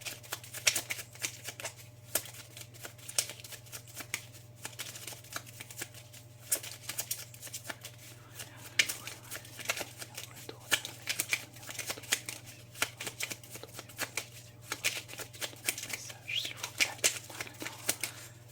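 Tarot cards being shuffled by hand during a reading, a soft, rapid flutter of riffling card clicks repeating irregularly throughout at close range, with quiet speech nearby.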